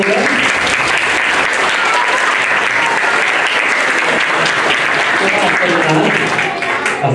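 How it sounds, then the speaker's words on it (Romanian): Parents applaud loudly and steadily at a kindergarten Christmas show, a dense, continuous clapping that fills the room for the whole stretch before tapering slightly at the end. "Bravo! Părinții aplaudă!"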